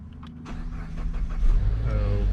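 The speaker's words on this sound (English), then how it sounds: "Start the engine." A car engine is started after being bought at auction as a theft recovery, with a faint click and whir followed by the engine catching and settling into a rising, steady idle.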